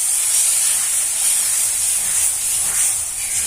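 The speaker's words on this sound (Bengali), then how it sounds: "এবার আমি পেস্টটাকে কড়ার মধ্যে ঢেলে দেব, ডোতে পরিণত করব।" Pitha paste hits a hot oiled kadai and sizzles with a steady, bright hiss that stays fairly loud throughout, with no voices.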